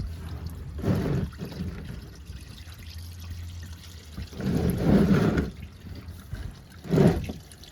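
Engine oil drains from a Lexus RX 350 during an oil and filter change, a liquid pouring and trickling sound in bursts, louder around a few moments, with no talk.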